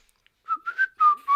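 A person whistles a short, bright run of notes, several quick tones rising and falling, close and alone with no talk.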